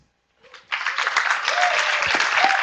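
Audience applause at a conference closing plenary in Taipei, starting abruptly after a brief lead-in and building into sustained, dense clapping that fills the room to the end.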